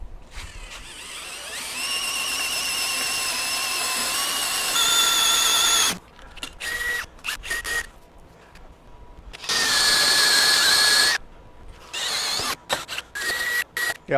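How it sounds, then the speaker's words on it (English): An electric drill bores another hole in several bursts: one long steady whine, then short stop-start pulses, another sustained run and more brief triggers, all close and fairly loud. "drill another hole here."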